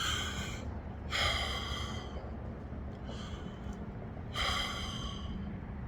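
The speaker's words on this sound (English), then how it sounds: "Take 3 deep breaths." Deep breaths taken slowly in a quiet outdoor setting, two loud breathy hisses with fainter exhales between them, close and unhurried.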